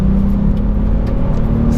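A Volkswagen Up GTI pulls in third gear on a wintry road, its engine a steady, loud mid-pitched drone heard from inside the car over road rumble, with no voices.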